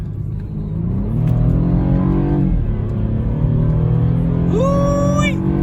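A car engine, switched into sport mode after a quick downshift, pulls hard through a steady rising rev for several seconds, loud and close from inside the cabin, then spins up sharply to a high whine at the end.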